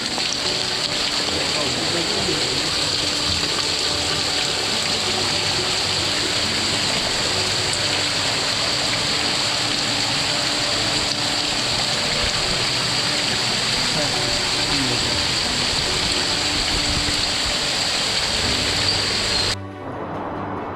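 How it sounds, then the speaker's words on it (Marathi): Steady, dense roar of heavy rain at Koynanagar pouring down without a break, close and loud, cutting off abruptly just before the end. "जोरदार पाऊस चालू आहे"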